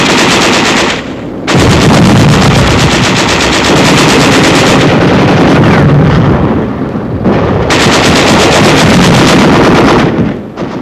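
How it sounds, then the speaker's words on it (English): Sustained rapid machine gun bursts with heavy booming shell impacts during a 1945 advance on a besieged city, tanks and infantry pushing forward; loud, dense fire pausing briefly near one second and again around seven seconds. "There is some machine gun fire and occasional shells, but little concerted resistance."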